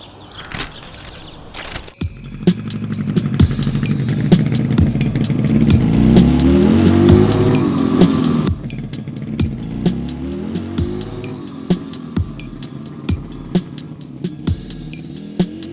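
A motorcycle engine revs up to a loud, sustained roar that swells and holds for several seconds, then drops back to a ticking idle with sharp, regular clicks.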